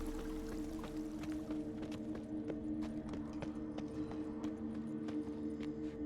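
Horse hooves clip-clop in The Witcher 3, a steady run of sharp, evenly spaced clops over sustained background music tones, with no talking.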